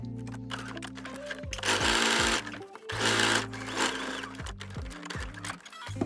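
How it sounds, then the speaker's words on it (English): A sewing machine stitches through two fabric layers of a welt pocket on a street jacket, running in close, loud mechanical bursts with two longer runs and short stops between them. "So I'm sewing just through those 2 layers of the pocket."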